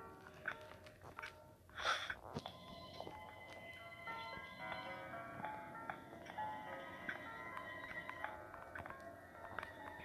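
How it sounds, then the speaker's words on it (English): An ice cream truck jingle from the Ice Scream horror video game plays quietly as a tinkling melody, with scattered clicks and thumps around it and no speech. "That's Rod. Rod's ice cream truck."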